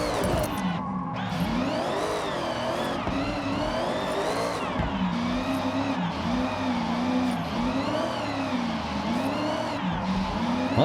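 A Mitsubishi Evo IX engine revs hard while drifting on drift tires in Forza Horizon 6, its pitch rising and falling in repeated waves, with tire squeal and constant loud engine drone throughout.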